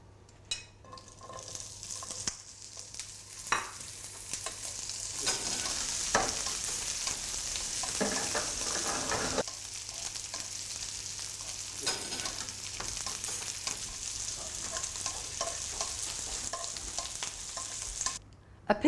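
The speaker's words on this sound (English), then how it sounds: "I'm going to cook the chorizo now, just putting a little bit of oil in the pan." Chorizo pan-fries in a little oil, sizzling and spitting at close range with bursts of louder crackle as it is stirred, then settling before a final clatter; no one speaks.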